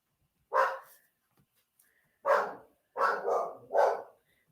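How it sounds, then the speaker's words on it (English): A dog indoors barks five times: one bark, a pause, then a quick run of three barks and a final closing bark, each fairly close and loud against near silence. "I'm sure it was a dog."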